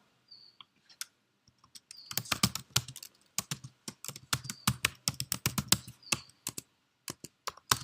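Close computer keyboard typing, with bursts of quick key clicks separated by brief pauses and a few isolated taps, as git commands are entered at a desk with no voice.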